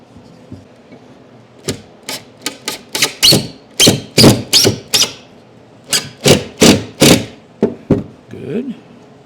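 Screw driven into plywood with a power drill or driver while building an HO-scale model ski lift on a rolling workbench: a series of sharp, loud ratcheting bursts in quick uneven clusters, close up, with brief quiet gaps.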